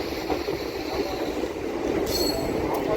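A MEMU train runs on rails between Nellore and Vijayawada, a steady rumbling roll with a brief high squeal of wheels near the end, heard from inside with no talk.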